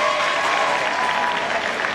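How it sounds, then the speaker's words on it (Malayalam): Children at a sub-district school sports meet closing ceremony clap together in a steady, fairly loud burst of crowd applause, with faint voices mixed in. "കൈയടിക്കുന്നത് തന്നെ മനോഹരമാണ്"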